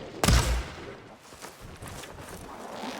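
Gunfire in the video game Horizon Forbidden West: a single loud, sharp burst right at the start, then a low, noisy rumble of battle that carries on more quietly with no voices.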